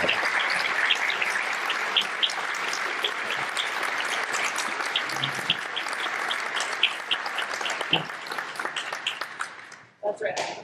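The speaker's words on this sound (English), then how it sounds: "Let's give her a round of applause" Sustained audience applause following a lecture at an event, dense continuous clapping filling most of the stretch before fading out near the end, with voices briefly emerging afterward.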